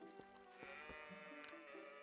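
A goat in the Ordon village of Zelda: Twilight Princess HD bleats several times in short, wavering calls spaced across the moment, fairly close and clear with no talk over it.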